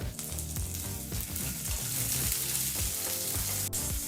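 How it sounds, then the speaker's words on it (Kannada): Red chillies and curry leaves fry in hot oil in a pan for a tomato rasam, giving a steady, close, dense sizzle that runs unbroken, with faint stirring scrapes and no voices. "ಈಗ ಇದನ್ನೆಲ್ಲ ಒಂದು 30 ಸೆಕೆಂಡ್ಗಳ ಕಾಲ ಫ್ರೈ ಮಾಡ್ಕೋಬೇಕಾಗತ್ತೆ."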